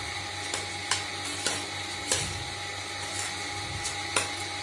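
Soaked rice and lentils stirred into a sizzling onion and tomato mixture in a pan, a steady frying hiss with a few soft spoon scrapes, close and even, no talking.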